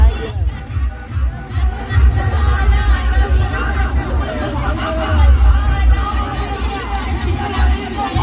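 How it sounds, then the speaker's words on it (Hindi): A large crowd at a 12 Rabi ul Awal procession in Ramgarh Gola near Ranchi, with dense babble of many voices and chatter, loud and continuous, plus someone talking close by. "काफी भीड़ है, देख सकते हैं बहुत ज्यादा काफी भीड़ है"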